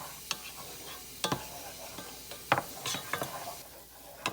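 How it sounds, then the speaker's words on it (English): Garlic cloves cook with softened onions in a pot for cheddar bacon potato soup: a quiet, steady sizzle broken by several sharp scraping clicks of stirring, heard close with no talk. "after the onions have gotten soft, I'm going to add my garlic cloves and just maybe cook them for like 30 seconds"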